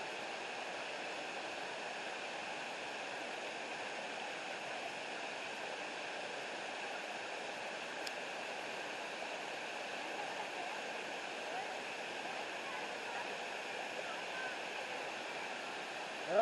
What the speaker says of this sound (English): Stand underneath the waterfall.